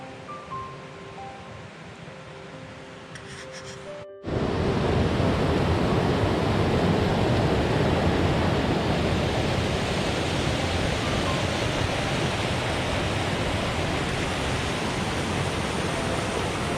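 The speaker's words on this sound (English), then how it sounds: "The water's just white and moving as fast as it can." Fast-flowing white water swollen by heavy rain in Vogel State Park, Georgia, rushes as a dense, steady roar that cuts in abruptly after a quieter opening and stays loud and unbroken to the end.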